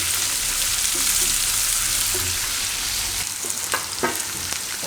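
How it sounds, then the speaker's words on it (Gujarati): Onion, garlic and green chilies sizzle steadily in hot oil in a pan, a dense close crackle with a few scraping stirs toward the end and no talking. "ડુંગળીમાં નાખી દઉં આપણે લસણ અને મરચાં. આને પકાવી લેવું બેયને."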